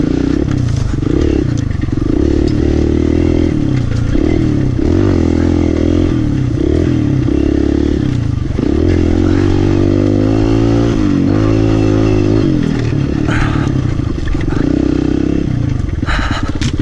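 Off-road motorcycle lapping a snowy private track, the engine loud and close throughout, revving up and down in wavering surges with some clatter, no talking.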